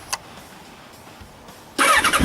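A Kawasaki ZRX 1200 motorcycle, just fitted with a new ignition advancer, is heard after a few faint clicks. It cranks and then catches with a sudden loud burst of engine noise near the end.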